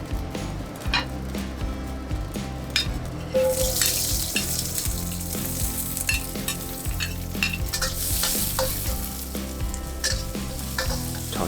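Green and red chili peppers with minced garlic stir-fried in a hot wok with oil: a steady, loud sizzle, with a spatula scraping and clacking against the metal throughout, over quiet background music.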